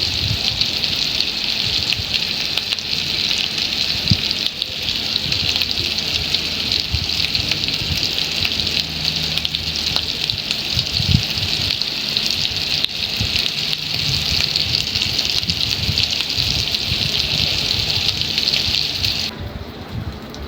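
Pointed gourd (potol) slices frying in a pan, giving a loud, steady hissing sizzle that holds without a break for nearly twenty seconds, then thins out abruptly right at the end.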